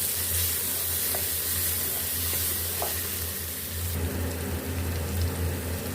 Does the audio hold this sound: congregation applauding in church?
no